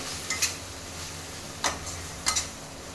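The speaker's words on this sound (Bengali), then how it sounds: "এবার আমি ঢাকনা খুলে দেখব মশলাটা আমার তৈরি হয়েছে কি না" Lid lifted off a cooking pot of spiced fish-curry masala, three short metallic clinks spaced across a faint steady sizzle.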